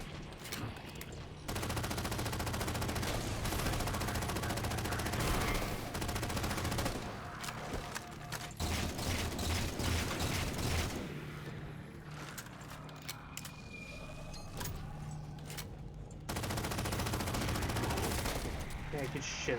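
Video game gunfire from Halo 4, including an incinerator cannon, rattling in sustained bursts and blasts with brief gaps, loud and dense throughout.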